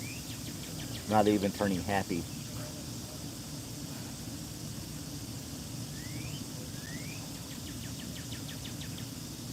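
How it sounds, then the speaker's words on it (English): A cardinal whistles short upward-sweeping calls over a steady, dense buzz of cicadas outdoors, with someone talking briefly near the start. "There's a cardinal in the background and a shitload of cicadas."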